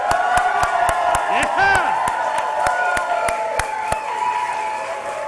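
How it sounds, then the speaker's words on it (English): A crowd at a Nasdaq listing ceremony bursts into loud, steady clapping and cheering, with sharp individual claps and a whoop rising above the din throughout. "So how about a round of applause to kick some things off?"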